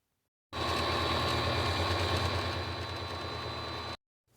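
A sewing machine winds a bobbin with a steady, continuous motor hum and fine whir, running evenly for about three and a half seconds and then stopping, with no talking.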